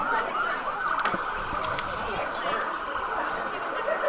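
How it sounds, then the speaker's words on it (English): A siren wails faintly in the distance beneath a steady wash of crowd and ambient noise at a high school football game in Sault Ste. Marie, with speech-like sounds mixed in. "Sirens in the background."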